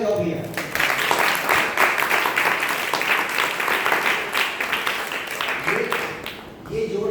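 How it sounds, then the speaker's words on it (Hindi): Loud, dense clapping from a seated audience at a Jain religious discourse on Uttam Satya Dharma in Songadh. It rises quickly, holds steady for several seconds and fades, with a voice speaking just before and after. "वेरी गुड, जोरदार तालियां बजाओ भैया"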